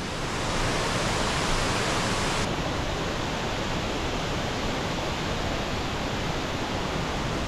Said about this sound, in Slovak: Vodopád Sekumpul.